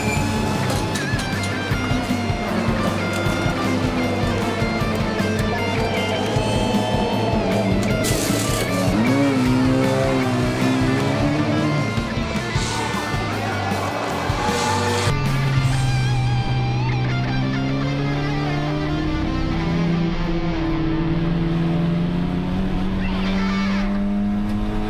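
A Team Spoon race car in the Super Taikyu four-hour race at SUGO pulls into the pit, its engine droning loudly throughout and its pitch rising and falling as it slows, with no talk.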